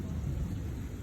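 Low thunder rumbles steadily through a rainstorm, a dense, continuous roll with a faint hiss of rain over it.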